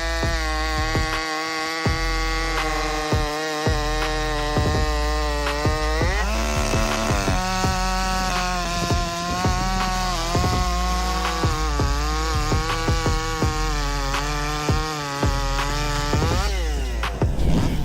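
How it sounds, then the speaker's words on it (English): A powerful chainsaw with a 24-inch blade cuts through a large pile of firewood, its engine droning loud and close, bogging down and revving back up as each cut goes through. "Thanks to this powerful chainsaw, he can cut such a large pile of wood by himself"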